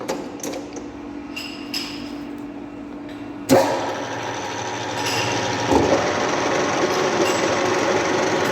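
A lathe runs a threading tool to cut a groove into a compressor crankshaft journal at low speed. A quiet mechanical whir gives way to a sudden, louder, steady grinding cut that carries on to the end.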